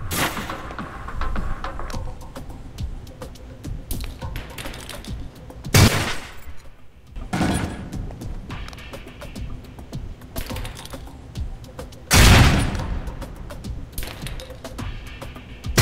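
Concussion grenades going off during a training exercise, three sharp blasts spaced several seconds apart over a steady background of clicking and gunfire-like noise.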